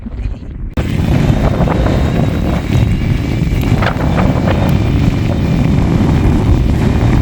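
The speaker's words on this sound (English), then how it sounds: "Oh, still going uphill. With the wind battering us." Strong wind roars continuously and loudly across the microphone on an uphill hike along bridleways, a steady heavy buffeting that starts abruptly after a brief quieter moment and never lets up.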